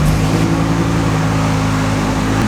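A finished SEMA race car build sits with its engine running, a loud, steady, deep idle rumble holding constant throughout with no revving or voices.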